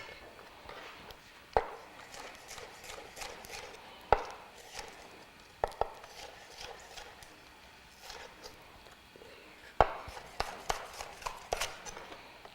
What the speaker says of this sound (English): how I'm rocking my knife back and forth. Get these slices.